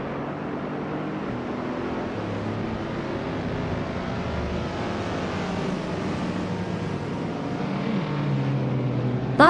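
Engine of a 1959 Austin-Healey racing car in a racing video game, a steady droning roar of engines that holds constant throughout, with no talk.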